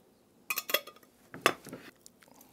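Lemon rind and juice being mixed into a 1927 lemon pudding batter, with a few soft clinks and scrapes of a utensil against a bowl in short bursts, close and fairly quiet, no talking.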